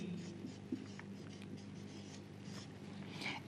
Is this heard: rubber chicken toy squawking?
no